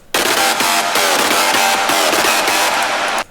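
Heavy reverb washes over a Serum synth electro house FM lead, whose loud, dense, bright notes play in a continuous stream before cutting off abruptly.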